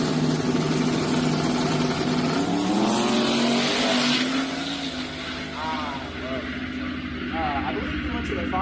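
Drag racing truck, a True Street entry, accelerating hard down the strip, its loud sustained engine roar climbing in pitch and then fading, with someone talking over it.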